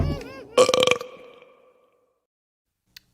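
A loud, drawn-out burp bursts in at the end of a children's song, trailing off after brief singing, followed by near silence and a tiny click.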